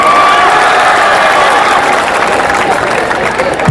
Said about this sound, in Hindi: अरे नमन कर दिया, ताली तो बजा दो।